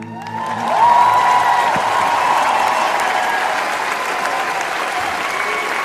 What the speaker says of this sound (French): Applaudissements pour Vianney.